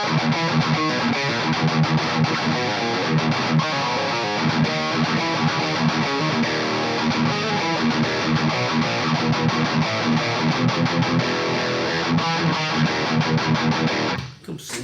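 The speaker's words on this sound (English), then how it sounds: "I'm going to engage my boost, which is the KHDK Ghoul Screamer." Electric guitar through a Gower-modded Marshall high-gain amp, boosted by a KHDK Ghoul Screamer pedal, churns out tight, saturated distorted riffs, loud and sustained throughout before dropping off at the very end.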